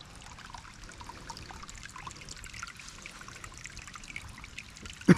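Water running through a drainage ditch on a rainy, muddy homestead, a steady close trickle and gurgle that goes on throughout with no voices, ending on a brief thump.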